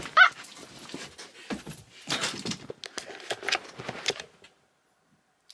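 A puppy makes small barks, yips and whimpers, soft and close, in short bursts over a few seconds before going quiet.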